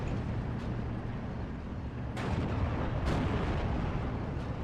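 A Firefly tank gun firing at a Panzer IV in Steel Division 2, heard as two sharp booming shots about a second apart over a dense, rumbling battlefield din.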